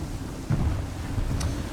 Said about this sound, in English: Heavy gusts, Captain.